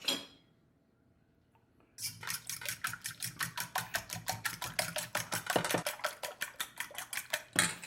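Beef is mixed with white pepper and seasonings in a bowl, a rapid, steady series of close clinking and tapping strokes after a short quiet pause, with no talk.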